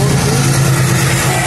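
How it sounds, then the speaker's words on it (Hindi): A WDG4G diesel locomotive hauling a goods train passes at high speed, a loud, steady low engine drone with rumbling wheel noise, close and continuous. "ये देखिए डीजल लोकोमोटिव के साथ आ रही है"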